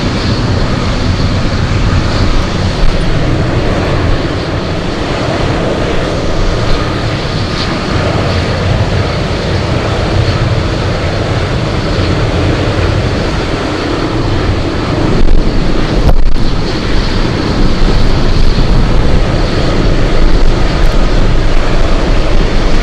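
Boeing 747 Dreamlifter cargo jet at Anchorage airport, a loud continuous engine roar with heavy wind buffeting that holds steady throughout and swells slightly near the end.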